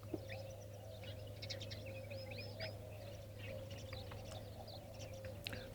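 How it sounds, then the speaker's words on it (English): Faint birds chirp and twitter intermittently over a steady low hum, distant and soft, with short bright calls scattered throughout, in an outdoor setting with ducks and geese nearby. "the chirping birds and the ducks and the geese"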